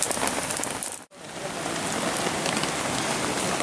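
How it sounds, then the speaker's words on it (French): Steady rain drumming on a tarp over a bushcraft camp in the woods, dense close patter throughout with one brief dip, no voices. "avec la pluie, d'ailleurs j'en prends plein l'écran là"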